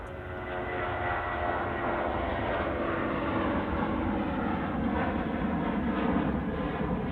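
Air India aircraft VT-JRE arrives at Manchester Airport, a steady, strong engine roar that builds slightly as it approaches and holds without pause, heard alone.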